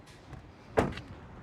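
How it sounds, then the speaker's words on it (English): A door on a 2023 Toyota Sequoia Limited 4WD closes once with a single solid thump, near and fairly loud, followed by quiet. "let's check out the sound of the closing door"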